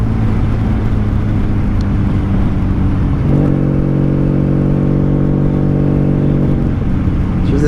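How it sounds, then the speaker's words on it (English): A 1995 Honda Magna VF750C with a Jardine exhaust runs steadily up close, its loud, constant V4 drone shifting into a higher, smoother harmonic tone midway before settling back, with no talking. "You're watching a video on a 95 Honda Magna."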